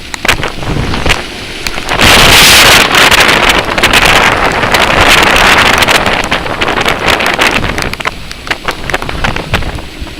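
Loud, roaring wind and rushing water surge around a boat in rough seas, with heavy buffeting noise rising and falling throughout, no voices.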